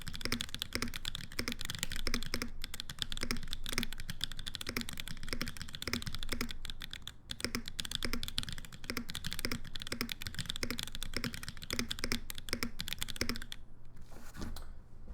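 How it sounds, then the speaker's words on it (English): Steady, rapid clacking of a Mode Envoy mechanical keyboard in a continuous typing rhythm, close and fairly loud, with no talking. "Let's give her a proper typing test."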